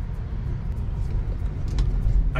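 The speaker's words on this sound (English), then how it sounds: "I kid you not, the only thing you can probably hear is the wind." Inside a 2021 Tesla Model 3 on the move, a soft steady wind and road rumble hums underneath, fairly quiet and even, with no engine note and no talking.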